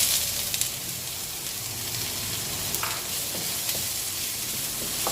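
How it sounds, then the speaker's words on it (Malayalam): Green chillies and onion sautéing in hot oil in a pan, a steady bright sizzle with occasional crackles and the scrape of stirring, loud and close with no talking. "ആ കൂടെ സവോളയും ചേർത്ത് ഒരു 10 സെക്കൻഡ് വഴറ്റി കൊടുക്കാം."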